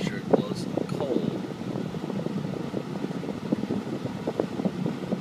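Cab fan of a 2003 Ford F250 with the 7.3L diesel blowing steadily at close range, a continuous broadband whoosh with small bumps and clicks throughout, and faint talk mixed in.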